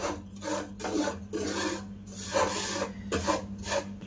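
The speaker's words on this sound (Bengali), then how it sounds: "ঘি দিয়ে আমি ভাজা করে নেব এই সুজিটা।" Semolina (suji) is dry-fried in ghee over a low flame and stirred with a spoon, making rhythmic raspy scraping strokes against the pan. The strokes come roughly twice a second over a steady low hum, with no talking.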